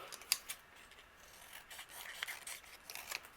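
Scissors trim a strip of scratch paper for a handmade card: a couple of quick, crisp snips near the start, then soft, faint rustling and cutting of paper close by.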